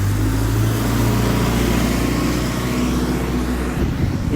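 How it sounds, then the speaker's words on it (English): A passing bus gives a loud, steady low engine rumble with broadband road noise that holds for about four seconds, then drops off sharply near the end as it moves away. "Oh, the bus, hear that?"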